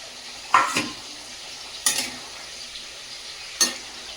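Eggs going into a frying pan of oil in a home kitchen: a faint steady sizzle underneath three sharp utensil scrapes or clinks spaced evenly apart, with no voices.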